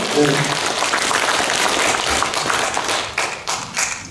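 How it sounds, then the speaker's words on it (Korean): Hall full of older adults gives a speaker a round of hearty applause, dense clapping throughout with a few louder claps near the end. "박수 한번 크게 해주십시오"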